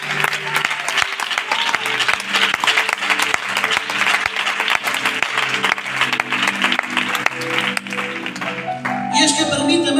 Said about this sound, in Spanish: ¿Cuántos le pueden dar un aplauso a Dios?